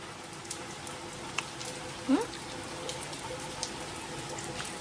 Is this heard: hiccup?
no